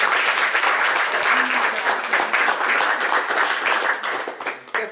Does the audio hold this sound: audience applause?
yes